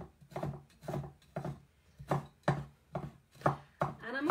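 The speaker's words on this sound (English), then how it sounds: "Chop up my ginger." Fresh ginger chopped with a knife on a board in a home kitchen, about nine steady close knocks roughly half a second apart, with no talk.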